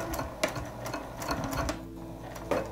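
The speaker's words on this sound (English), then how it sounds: "I'm going to stitch across the bottom, just a basting stitch to hold the loop together" A sewing machine runs a basting stitch along the bottom of a fat-quarter tote bag, with quick close mechanical stitching bursts and brief pauses, no talk.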